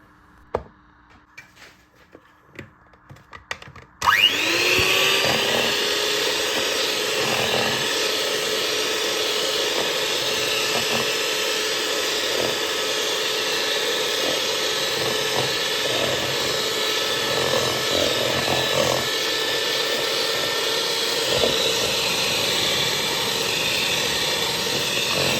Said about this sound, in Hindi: दोबारा से हैंड मिक्सर के साथ इसको ब्लेंड करना शुरू करते हैं